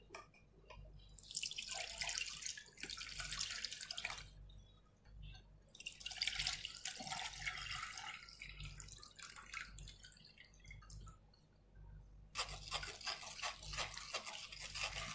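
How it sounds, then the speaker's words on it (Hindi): Tamarind water for pani puri is strained, trickling and splashing in three spells of pouring separated by short quiet gaps, close and fairly soft, with no talking. "अभी हम पानी को छान लेंगे।"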